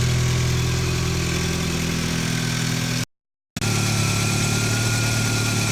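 A 1983 Volkswagen GTI engine idles steadily up close, a continuous rough hum with vibration that drops out for half a second midway, with no talking.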